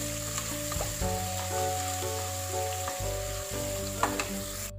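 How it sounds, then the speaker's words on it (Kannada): Onions fry in a pan until golden brown for dum vangibath, a steady close sizzle with light scrapes of stirring, while soft background music plays underneath and nobody speaks. "ಇದು ಗೋಲ್ಡನ್ ಬ್ರೌನ್ ಬರೋ ತನಕ ಫ್ರೈ ಮಾಡ್ಕೊಳ್ಳಿ."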